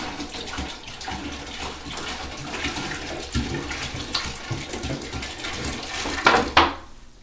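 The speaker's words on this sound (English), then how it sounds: "you're going to need to pour your distilled water" Distilled water is poured into a fish tank, a continuous splashing gush with rising and falling surges that ends in a brief louder slosh before stopping.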